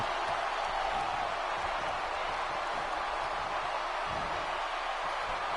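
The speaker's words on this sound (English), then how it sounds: "the crowd comes alive for that one." Wrestling show crowd roaring and cheering after an uppercut and chest chop, a steady wall of broadband crowd noise holding loud and unbroken throughout.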